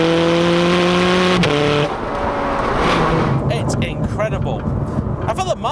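A Ferrari 430 Scuderia engine screams at high revs, then rapid single-clutch gear shifts cut in with abrupt pitch drops, followed by roaring acceleration and crackling pops.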